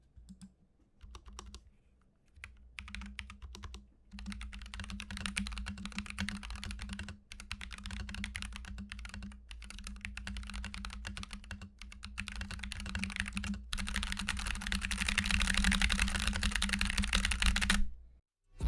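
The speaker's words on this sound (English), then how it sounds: "here's a typing test, by the way." Glorious GMMK 2 mechanical keyboard typed on in a steady, fast burst of close clacking keystrokes, with brief pauses and a low background hum, no talking.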